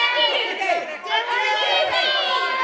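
Young children's voices cheer together as a small crowd during a kids' show, a dense, continuous burst of overlapping shouts and squeals that holds steady for a few seconds.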